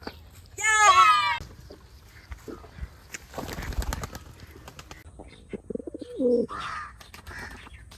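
Pigeons cooing and calling nearby, newly brought birds at a home loft, with a few short bird calls and soft bumps while people talk in between.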